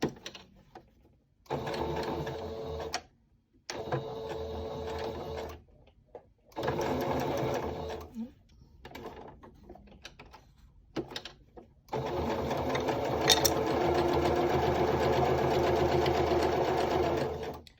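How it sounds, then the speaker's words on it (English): A serger sewing machine back stitches a cloth face mask in several bursts of steady mechanical whirring separated by short pauses, ending in one long continuous run. "Here you want to really back stitch again."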